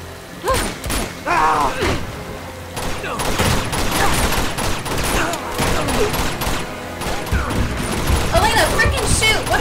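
Gunfire in the video game Uncharted 2: Among Thieves, with rapid bursts and scattered shots mixed with mechanical clatter and game music, under a player's excited talk.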